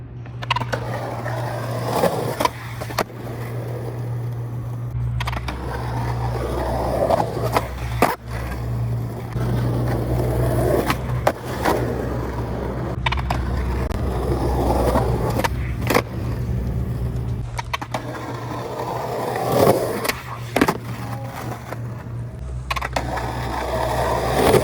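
Skateboard rolling and scraping across a Euro gap in a newer development in Las Vegas, with steady wheel rumble, sharp clacks and impacts over a low engine hum from nearby cars, no talking.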